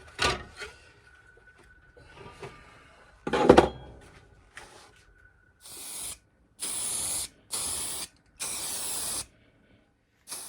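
Aerosol spray paint hissing in a series of bursts over parts for a classic car, five or six close, loud sprays of a second or so each, following quieter clicks and handling knocks.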